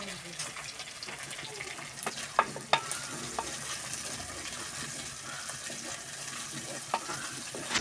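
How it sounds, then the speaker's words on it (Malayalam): Onion, ginger and green chili fry in hot oil for a sardine and mango fish curry, giving a continuous close sizzle broken by scraping stirs and a few sharp clinks. "ഉള്ളി, ഇഞ്ചി, പച്ചമുളകും ഒക്കെ നല്ലോണം എണ്ണയിൽ കിടന്ന് വാടി"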